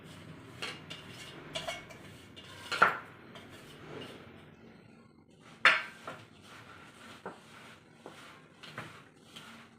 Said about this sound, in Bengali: এটা ভালো করে এইভাবে মাখিয়ে নেব।